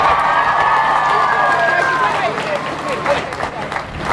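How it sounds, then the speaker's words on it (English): A studio audience on a sports show claps and cheers for the Irish Olympic team, a steady crowd roar with applause building under lingering talk. "every member of the Irish Olympic team deserves a great round of applause."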